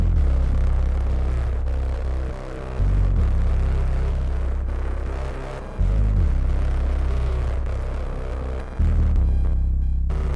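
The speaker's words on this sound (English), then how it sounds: "So you're going to hear a bunch of distortion, big crush, phaser, and all kinds of effects on this." A hyperpop or glitchcore bass line, heavily distorted and run through bitcrush and phaser effects, pounds loud and low in sustained throbbing notes, cut off by brief gaps every few seconds, with no voices.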